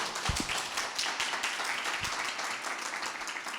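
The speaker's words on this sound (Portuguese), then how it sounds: "aplauda ao Senhor Jesus, glória a Deus" Congregation in a church clapping for Jesus, a steady patter of many hands close by with a few sharper taps standing out.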